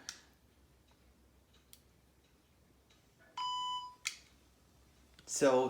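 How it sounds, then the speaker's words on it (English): A PenFriend talking pen gives a sharp electronic beep as it is switched on, followed by a short burst of higher chirps, all against a quiet room background. "that just beeped and it told me it was on"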